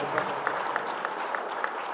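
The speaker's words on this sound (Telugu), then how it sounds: "వారికి కూడా ఒకసారి గట్టిగా చప్పట్లతో ధన్యవాదాలు తెలియపడతాం" Clapping from a workshop audience, a steady dense patter of many hands with faint voices mixed in, moderately loud throughout.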